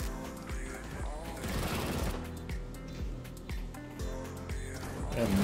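A KRISS Vector submachine gun fires in rapid bursts in the video game CS:GO, with quick, punchy shots repeating in a tight rhythm and a faint voice underneath.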